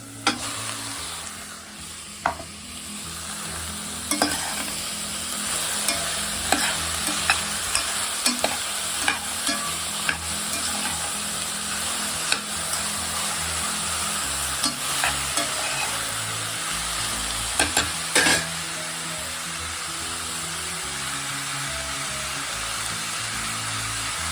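Snake gourd pieces and lotus seeds frying in a pan, a continuous loud sizzle broken by frequent clacking stirs and scrapes of a spoon throughout.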